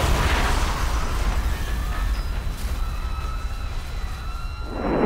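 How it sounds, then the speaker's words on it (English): Car bomb explosion on a city street, a loud deep roaring blast that fills the whole stretch and rumbles on as a heavy sustained boom. "I presume you heard that loud explosion right next to you"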